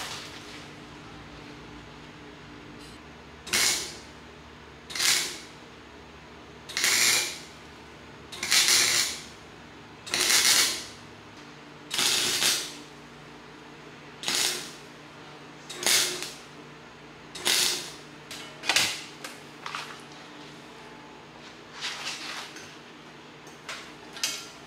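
A cheap $130 welder joins mufflers for a 1000hp Mustang on a garage floor, heard as about a dozen short crackling, sizzling bursts spaced a second or two apart over a steady low hum, close and without speech.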